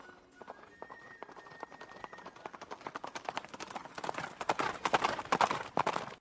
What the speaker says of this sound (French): Elle se baladait à cheval dans la forêt tôt le matin pour ne pas être vue.